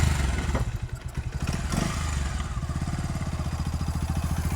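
A motorcycle engine runs close by with a steady, rapid low-pitched chug and some clatter and thumps, loud throughout the short stretch with no talk.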